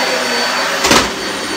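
Dyson Light Ball Animal upright vacuum cleaner from 2017 running steadily, a loud continuous close whir with a brief surge in intensity near the middle, no voices.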